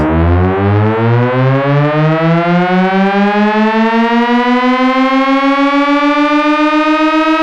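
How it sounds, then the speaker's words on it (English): Synthesizer tone with its pitch sweeping steadily upward, driven by an envelope generator, recreating a sound from a song; a loud, continuous, harmonically rich rising wail like a siren, heard alone. "this rise that you're hearing right now is basically this modulation being the pitch modulation being modulated by the envelope generator 2"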